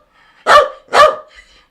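A pet dog barks twice, loud and close, the two sharp barks about half a second apart in an otherwise quiet room.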